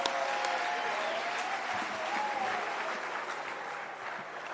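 Crowd applause at the opening ceremony of a flag football world championship in Jerusalem, a faint, steady wash of clapping heard from a distance, with a thin whistle-like tone drifting through early on.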